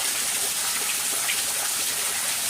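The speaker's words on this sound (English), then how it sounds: "The rain and the big drops that are falling in this section here," Big raindrops fall and splash outdoors as a steady, even hiss of rain that fills the whole moment without a break.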